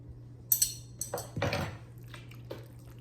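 Metal utensil clinking and scraping against a slow cooker pot while stirring creamy fiesta chicken sauce, a few quick clinks followed by a longer scrape, fairly close and clear with no talking.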